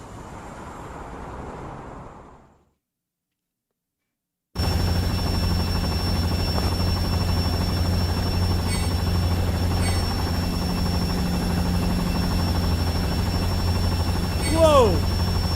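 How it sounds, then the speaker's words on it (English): A helicopter in a cutscene from the video game Final Fantasy 7 First Soldier starts abruptly after a moment of silence and keeps up a loud, steady rotor drone. Its low, whirring thrum runs on at an even level with faint voices beneath it. "that helicopter is loud"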